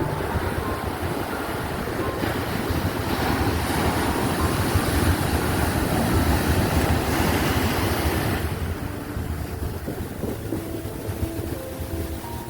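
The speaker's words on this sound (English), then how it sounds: "it's so dramatic with the waves breaking over it" Ocean waves break on a sandy beach near Arugam Bay in Sri Lanka, a loud, continuous surf roar mixed with wind buffeting the microphone and no talking.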